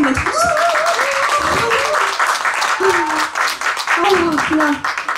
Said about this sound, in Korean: 여러분들 고생이 다 박수 한번 해주세요